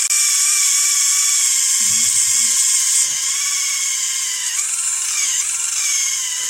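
A high-pitched rotary tool whines continuously up close, grinding a saxophone neck cork, its pitch dipping slightly as it bites into the cork, with a few faint low knocks underneath.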